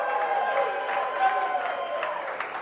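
A lively studio crowd applauding and cheering to welcome Kansas City Chiefs punter Matt Araiza, a steady wash of clapping under a voice.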